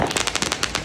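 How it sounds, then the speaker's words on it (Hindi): Firecrackers going off during Diwali celebrations in a residential lane, a quick string of sharp crackling pops at a steady rapid rhythm, moderately loud and fairly near, without talking. "पटाखा फूटना शुरू हो गया है।"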